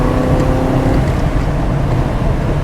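A 400hp NASCAR-engined AC Cobra Coupé accelerating, its engine giving a loud, steady, close roar with a deep rumble throughout.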